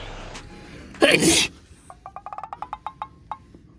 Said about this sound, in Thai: ผมเผลอจาม